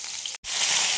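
Cauliflower, potato and eggplant fry in a pan with a close, bright, steady sizzle that drops out for an instant before carrying on.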